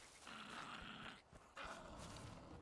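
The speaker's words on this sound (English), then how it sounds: "Oh, that's a dog." A dog in the survival video game Survival: Fountain of Youth growls and snarls in two sustained bursts separated by a short gap, fairly loud and close over a low game ambience.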